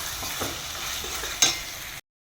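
Thick spice paste being stirred in a hot pan for Kathiyawadi cooking, a steady soft sizzle with scraping spoon strokes and one sharper clink near the end, close and alone without talk.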